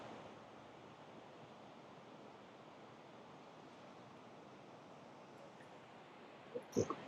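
Steady broadband rush of waterfalls and a river at Letchworth State Park, a continuous even roar heard from a distance, with a few brief knocks near the end.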